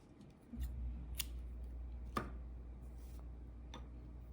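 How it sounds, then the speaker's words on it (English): Scissors snipping the yarn end off a crocheted granny square, a couple of faint, brief metallic clicks close by over a low steady hum in a quiet room. "All you would do is just snip off the end."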